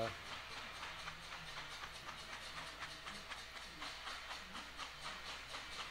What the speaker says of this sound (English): sort of nice to hear the steam locomotive work up there a little bit